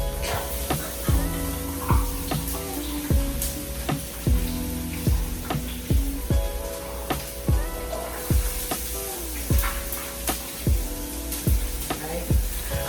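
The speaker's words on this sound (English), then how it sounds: "So here I'm sauteing my onions, bell pepper, and my garlic. I'm using olive oil." Onions, bell pepper and garlic sizzle steadily in olive oil in a pot, a constant close frying hiss with repeated scraping knocks of a stirring utensil against the pan.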